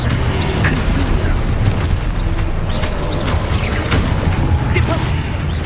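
Repeated blasts of the Confringo spell in the Hogwarts Legacy video game, a dense, continuous run of booming bursts under loud game music and effects, with no pauses between hits.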